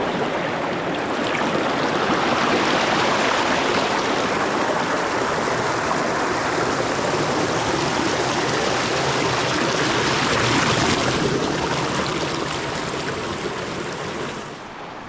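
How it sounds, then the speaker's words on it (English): Wilson Run, a stream in Apollo County Park joined by another stream, flows with a steady, full rushing and gurgling wash that stays constant and close throughout, with no voices. "It's joined by another stream, and together they're flowing as Wilson Run."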